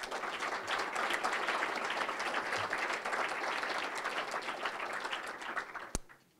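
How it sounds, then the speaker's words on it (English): Sustained applause from a crowd of diners at an honors recognition dinner, steady and dense for about six seconds before ending with a sharp knock and a quick fade. "So how about a round of applause for Deanna Berger"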